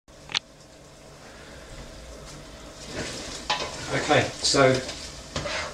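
Chilli con carne mince is stirred and fried in a pan, with a steady sizzle and scraping strokes that grow busier and louder toward the end, and a brief spoken word near the start.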